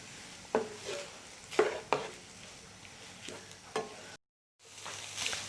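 Keema with yogurt cooks in a pan, stirred with several quiet scraping strokes over a soft sizzle, broken by a brief moment of silence before the stirring resumes.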